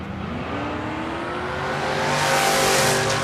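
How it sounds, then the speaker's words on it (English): Drag race cars launch hard down the strip at a WCHRA season finals event, engines roaring loudly and rising in pitch as they accelerate away. "Here comes James Brown right behind him, and we're going to race this baby now"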